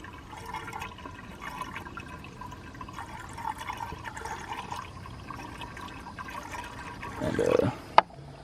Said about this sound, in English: Fill that radiator back up.